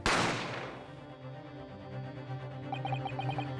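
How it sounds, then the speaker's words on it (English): A sharp gunshot effect from the Ace Attorney video game cracks once at the start and decays quickly, leaving faint game music with small bright notes beneath it. "You heard the gunshot, you mean?"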